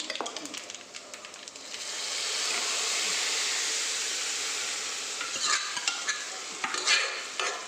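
Dry red chillies frying in a pan, stirred with scraping strokes, while a soft sizzle swells to a steady hiss in the middle and sharp clinks and scrapes pick up near the end.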